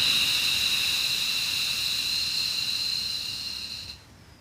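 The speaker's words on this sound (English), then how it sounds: "and breathing out." A long, steady breathy exhale in a guided breathing exercise, a soft continuous hiss of air that holds evenly for about four seconds and then trails off into quiet.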